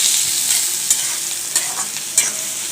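Chopped onions sauté in hot oil, a steady bright sizzle running throughout with a few sharper crackles and spatters popping up near the end, close and fairly loud with no voices.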